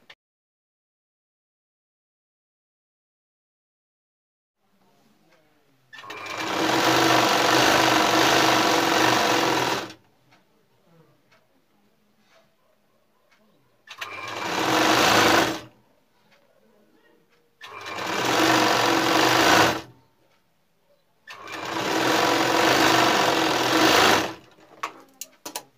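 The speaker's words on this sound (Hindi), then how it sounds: "साइड सिलाई नीचे से शुरू करते समय मजबूती के साथ में शुरू करना है" A sewing machine stitches the side seam of a men's kurta in four separate runs, a long first burst and then three shorter ones, each a close, steady mechanical whir with quiet pauses between.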